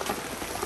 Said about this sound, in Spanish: Llovió y está lloviendo feísimo.